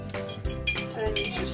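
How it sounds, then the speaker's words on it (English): Metal spoon stirring salt into boiled water, with clinking against the container in quick, irregular taps over a steady background, close and moderately loud. "I'm going to slowly pour this in while I stir at the same time"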